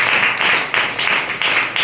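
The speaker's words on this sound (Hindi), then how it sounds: "राकेश सर फिर से हमारे गुरु के लिए एक बार जबरदस्त तालियां" A group clapping in applause for a guru-like mentor, Rakesh sir, at a gathering; loud, close, rhythmic bursts of clapping in a steady pulse with no talk over it.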